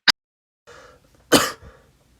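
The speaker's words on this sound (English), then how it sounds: "Got a cough." A single sharp cough from a lecturer, then a brief throat-clearing rumble and another short, harsh cough close to the microphone in an otherwise quiet room.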